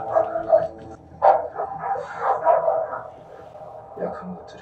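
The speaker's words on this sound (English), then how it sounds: "Oh, these are trained dogs." Trained dogs bark in an anime TV show episode, a few short yips and barks mixed under ongoing speech from viewers and show dialogue.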